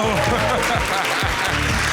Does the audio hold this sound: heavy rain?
no